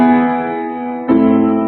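Sustained piano chord ringing out alone, then a second chord struck about a second in, completing a Neapolitan sixth cadence in an improvised passage.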